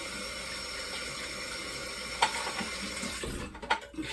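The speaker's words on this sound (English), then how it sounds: "Let me wash my hands real quick again, guys." Running tap water pours into a sink while sticky hands are washed, a steady close splash with a few clinks and shifts in the flow near the end, and no one talks.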